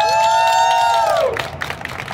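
A crowd claps and cheers, scattered applause rising under a loud sustained whoop that trails off after about a second.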